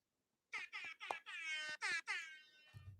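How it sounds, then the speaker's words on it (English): A loud air horn at a BMX event blasts in several short bursts, then holds one longer wavering tone before cutting off. "That's the air horn."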